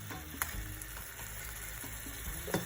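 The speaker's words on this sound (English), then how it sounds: "It's been sizzling for a little bit over 5 minutes." Steak frying in a hot pan after about five minutes of cooking, a steady close crackling sizzle with a few louder pops and scrapes along the way.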